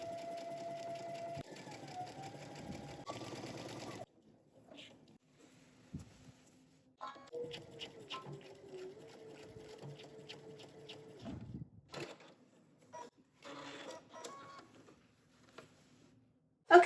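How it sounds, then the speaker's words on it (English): A home sewing machine stitching the facing of a McCall's M8514 jumpsuit runs in a few bursts of whirring stitching, separated by quiet pauses with small handling noises, close and moderately loud, with no talking. "now we can go ahead and stitch our facing in place"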